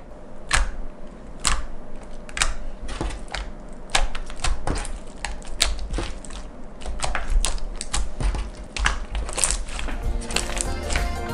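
Homemade clear gel slime made from Daiso materials, kneaded up close: constant sticky squelching with sharp clicking pops and crackles in an irregular rhythm, no voices.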